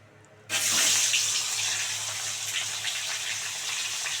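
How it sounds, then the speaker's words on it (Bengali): A fish head is dropped into hot white oil in a wok and bursts into a sudden, loud sizzle, which settles into a steady, bright frying hiss with a low hum underneath. "বন্ধুরা আগে মাছের মাথাটা ভালো করে ভেজে নেব"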